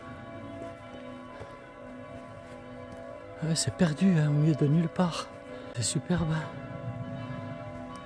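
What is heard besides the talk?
convent church bells ringing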